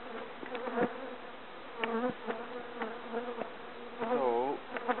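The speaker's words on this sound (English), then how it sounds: "But man, do we have a lot of bees." A dense swarm of honeybees hums steadily up close at an open hive during an inspection, with individual bees droning past now and then, loud and continuous.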